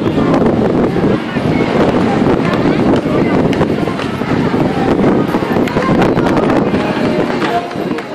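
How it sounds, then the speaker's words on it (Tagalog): Loud, blustery wind buffets the microphone in a continuous rumbling roar, with a faint voice partly buried underneath. "Hangin."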